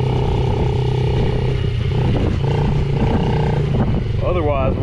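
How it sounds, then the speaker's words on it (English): A Yamaha TTR50 dirt bike engine runs loud and steady at idle, a continuous droning rumble, with a voice speaking over it near the end. "Stops, idles, no problem."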